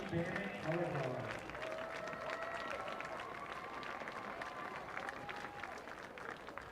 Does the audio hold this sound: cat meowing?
no